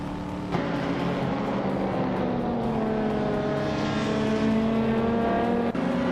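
Vintage 1990s racing cars accelerating in a close pack, a sustained loud engine drone with rising pitch as they pull away, steady throughout.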